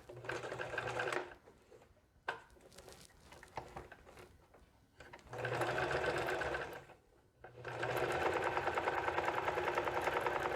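A sewing machine stitches fabric for a ruffle headband in several long, steady runs of fast mechanical rattling, stopping briefly between runs and starting again up close, with no talking.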